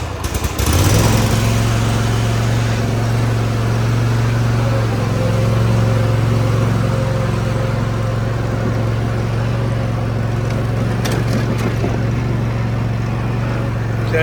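A Cub Cadet ZT1 54-inch zero turn mower from 2024 runs steadily and loud, its engine drone shifting slightly as the PTO engages the blades, with a brief clatter near the end.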